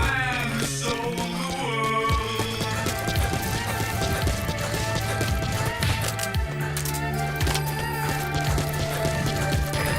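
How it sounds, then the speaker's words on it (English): In the video game Metal Gear Solid V, rapid hoofbeats of a galloping horse pound steadily over a layer of music, with a brief whinny. "Use your horse."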